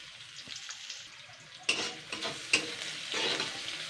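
Chopped onion dropped into hot oil with cumin and a split dried red chilli, bursting into sudden sizzles, then spattering and stirring in a few sharp surges, close and moderately loud with no talk.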